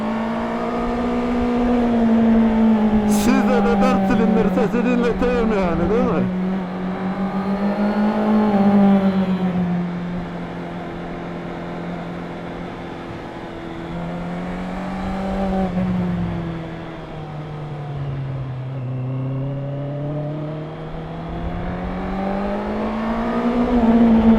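A naked motorcycle engine revs while riding, a loud, steady droning whine that swells and falls with each throttle change, running continuously with no talk.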